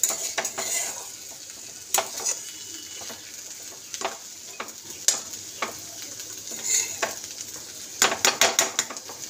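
Sugar stirred in a metal pan with a utensil, scraping clinks and taps recurring irregularly over a soft sizzle, close by with no talking.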